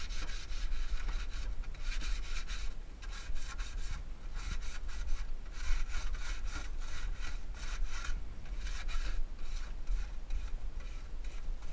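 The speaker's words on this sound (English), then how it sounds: "that's how you use the aluminum foil for the grill brush" A grill grate on a Big Green Egg is scrubbed with a balled-up aluminum foil brush, making a steady, close, rhythmic scraping and rasping stroke after stroke with no voices.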